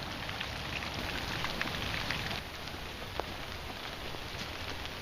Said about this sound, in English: out in the forest on this beautiful rainy day.